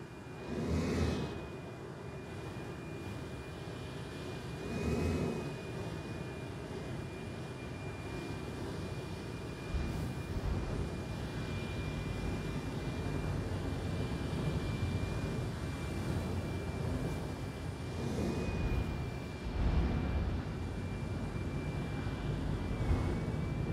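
A spaceship in Star Citizen sets down with its landing gear deployed: a steady engine roar and broad rushing hum hold throughout, with a thin high whine over it and a few soft whooshing swells.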